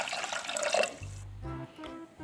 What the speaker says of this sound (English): Add more water.